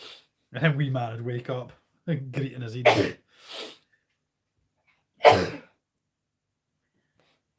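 A single loud, sharp sneeze bursts out close by after a stretch of conversation, at a small New Year's Eve gathering at home. Quiet follows.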